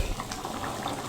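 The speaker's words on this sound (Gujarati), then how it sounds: "8 થી 10 મિનિટ માટે ઉકળવા દીધી છે." Chana dal simmers in a pot on a low gas flame, a steady, dense bubbling and popping that carries on throughout, close and fairly loud.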